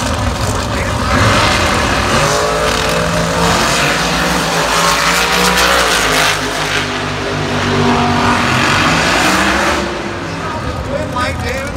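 NHRA drag race car roaring at Sonoma Raceway during sportsman eliminations, a loud sustained engine howl rising and holding across the run, with an announcer talking over it throughout.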